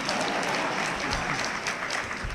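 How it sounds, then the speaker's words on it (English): Audience of actors applauding at an alumni celebration at a community college: a dense, steady wash of many hands clapping throughout, fairly close and sustained without pause. "any actors here? Applaud yourself."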